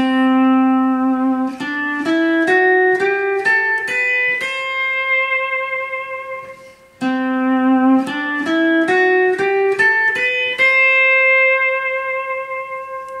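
A pedal steel guitar plays a rising C Lydian scale of sustained, gliding notes, then repeats the same ascending run a second time, clear and ringing with no talking.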